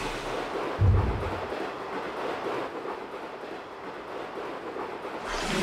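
Train in the video game A-Train 9, a steady rumbling rolling sound with a low thump near the start, continuous and moderately loud with no talk.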